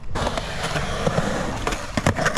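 A skateboard fakie ollie on a transition ramp, with a short burst of wheel roll and sharp tail pops and clacks close by, ending in a couple of louder impacts.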